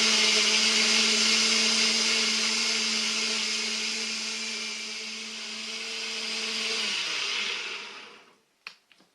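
An electric mixer whips eggs into a foamy batter for homemade carp fishing boilies, a loud steady whirring drone that slows and stops near the end, followed by a few clicks.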